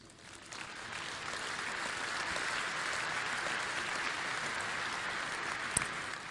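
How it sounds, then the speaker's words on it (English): Large audience applauding an ensemble at the Samsung Mobile Unpacked 2012 launch event in Berlin, a broad, even wash of clapping that swells in and stays steady, heard from a distance. "a warm applause for our Grand Art Ensemble"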